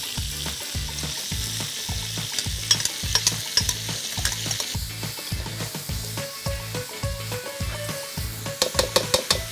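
Garlic and aromatics sizzle steadily in a hot pan, with a regular rhythmic scrape of stirring repeating throughout, close and clear with no talking.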